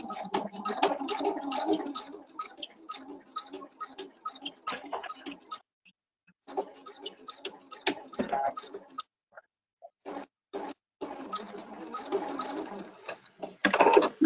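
A Viking/Pfaff sewing machine stitches fabric for an apron in short, rapid bursts of close, ticking needle clatter, with brief silent pauses between runs.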